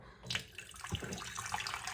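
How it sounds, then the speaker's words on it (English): Filtered water running from a tap into a container for pickle brine in a home kitchen, a soft continuous splashing and trickling stream heard alone at low level. "So we're gonna do 8 cups of water. I'm just using my filtered water."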